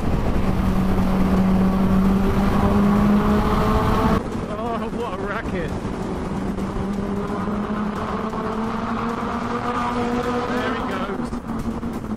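A Kawasaki Ninja H2 motorcycle engine, rated around 190 horsepower, revs hard and loud in a sustained howl with rising and falling pitch, heard up close alongside excited voices.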